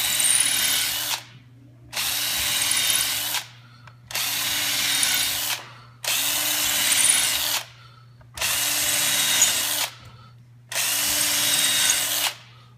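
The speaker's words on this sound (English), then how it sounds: "you can kind of stand over the top of it as you drill these holes" Power drill boring holes in wood for a seat assembly in a school tech shop, six loud whining bursts of about a second and a half each, separated by short pauses, with a low steady hum underneath.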